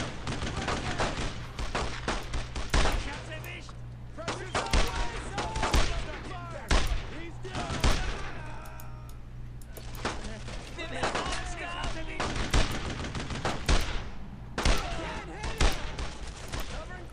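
Gunfire in the World War II shooter Brothers in Arms: Road to Hill 30 comes in repeated sharp bursts and single cracks across the clip, with someone talking between and over the shots.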